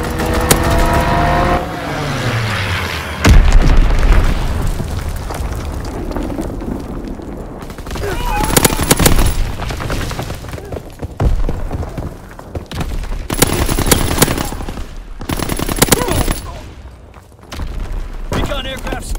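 Call of Duty WW2 team deathmatch battle with a fighter plane strafing: bursts of rapid gunfire and booming explosions come in waves, loud and close, mixed with in-game voices.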